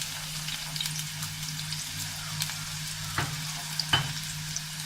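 Chopped onions sizzling in coconut oil in a pan with curry leaves and chillies nearby, a steady close frying hiss with a couple of sharp stirring scrapes and no talk.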